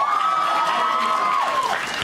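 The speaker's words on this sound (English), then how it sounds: "every time you say 2017, people are going to cheer" A graduation crowd cheers loudly, with whoops, shouts and a high sustained scream over the roar, filling the whole moment.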